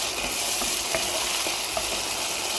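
Meat for a burger filling fries and sizzles in a pan, a loud continuous hiss with soft scrapes of stirring mixed in; no voices.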